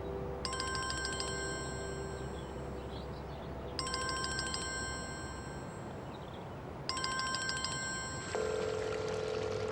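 A phone rings in three bright, repeated bursts of electronic trilling at regular intervals, moderately loud over a steady background hum.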